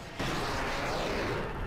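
Giant explosions in the Diablo 3 video game boom in a dense, continuous burst of broadband rumble and crackle, loud and unbroken for under two seconds with no voices.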